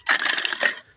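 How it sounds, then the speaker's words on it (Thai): A brief, bright clinking rattle as hard chunks of freshly made charcoal from a homemade kiln are knocked together, close and sharp, lasting under a second. "รุ่นเคาะเอาครับเคาะนี่ดังปิ้งๆ เลยนะนี่"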